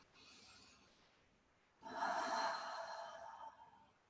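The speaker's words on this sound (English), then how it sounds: "Take a deep breath in and out." Deep breath drawn in and slowly let out during a moderate yoga session, a soft airy inhale followed by a louder, fuller exhale at close range.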